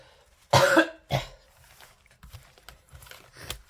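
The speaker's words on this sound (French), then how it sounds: "Je ne cesse de tousser." A person coughs hard twice in close succession indoors, followed by softer throat sounds and a few faint scattered noises.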